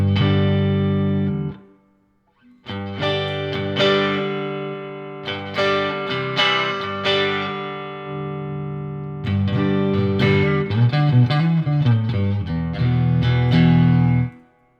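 Electric guitar with a warm, full low end plays chords and single notes through a Silktone tube amp, with short pauses between phrases.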